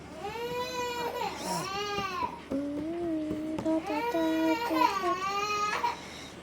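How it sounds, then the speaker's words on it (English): A baby cries in rising and falling wails, pausing briefly between bursts, near and moderately loud against a quiet room. "Do you still hear my baby crying when I close the sound?"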